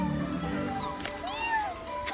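A child imitates a cat's meow in a short, high, wavering voice, quiet and close, with faint background sounds.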